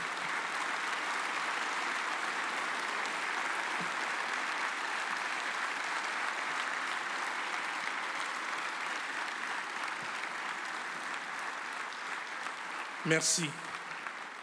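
A standing audience at an Algerian-African business forum applauds Algeria, sustained clapping filling the room from a distance before fading near the end, where someone speaks briefly over the tail of it.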